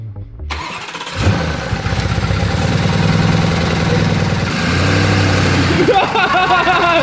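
A damaged Lamborghini Urus engine cranks and catches after a moment, then runs with a loud rough mid-pitched idle and uneven revs, close by, with people talking over it.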